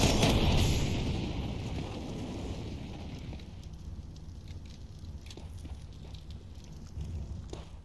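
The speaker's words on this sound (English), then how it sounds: "Grenade" A grenade blast in a video game opens with a loud, broad roar that fades into a long rumbling, windy tail. Faint crackles and small pops follow over the dying noise.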